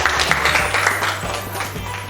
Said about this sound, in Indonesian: kita beri tepuk tangan ya untuk kelompok 1